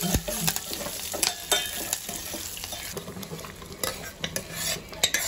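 A lentil tempering fries and sizzles in a pan while a spoon stirs and scrapes against the metal in repeated clinks and knocks. The sound is close and moderately quiet, with no talking.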